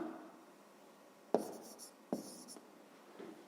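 A pen scratches briefly across paper as a math exercise answer is written out by hand, with a few short, soft strokes separated by quiet pauses.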